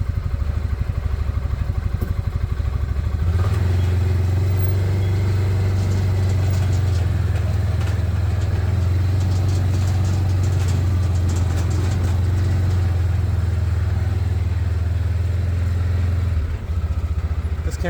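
A Massimo UTV engine drones steadily while driving around a yard at night, a loud continuous motor hum with a few shifts in pitch.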